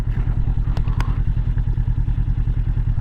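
A Honda CB500F motorcycle idles close by after pulling in and stopping, its engine giving a steady, low, rhythmic thrum with a couple of brief clicks over it.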